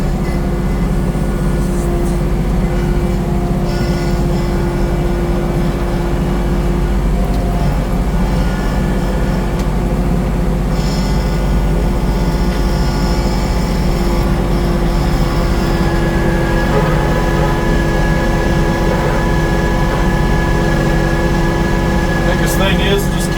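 A tractor engine runs steadily while pulling a cultivator through a garden, a continuous low mechanical drone with a constant hum throughout, and someone talks intermittently over it.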